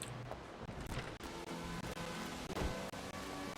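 Driving rain in the video game Final Fantasy XIV makes a dense, steady hiss of downpour, with faint scattered clicks and low rumbles beneath it and no voices.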